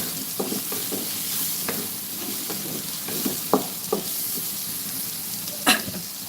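Diced potatoes frying in oil in a pan, a steady soft sizzle broken by scattered sharp stirring clicks and scrapes, with one louder clatter near the end and no speech.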